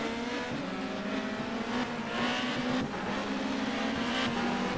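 Touring cars race at Oran Park, engines roaring continuously at high revs as the pack passes close by, with a steady droning drone and shifting pitch.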